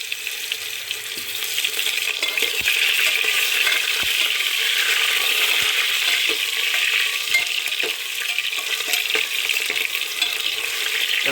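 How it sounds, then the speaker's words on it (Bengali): Cumin, bay leaves and potato pieces frying in hot oil for khichuri, a steady bright sizzle running throughout with occasional spoon clicks and stirring scrapes, close and fairly loud with no talking. "তেলটা গরম হয়ে গেছে, এবার দিয়ে নেবো জিরে, তেজপাতা, আলু,"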